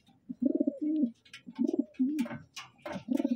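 Several healthy pigeons in a loft coo close by in repeated low, throaty phrases, each lasting about half a second, separated by short pauses, with a few brief higher flutters and rustles mixed in.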